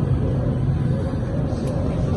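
Typhoon Kristine's wind roars outside a house during light rain, a steady, dense low rumble that holds without a break over the whole short stretch, with no talk.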